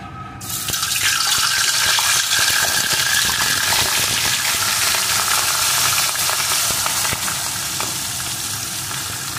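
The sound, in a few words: katla fish frying in hot mustard oil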